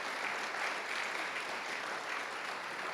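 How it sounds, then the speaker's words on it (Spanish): A church congregation applauds, a dense, even wash of many hands clapping at a steady level, somewhat distant and filling the room without any voices over it. "démosle gracias al Señor por eso y démosle un aplauso, hermano"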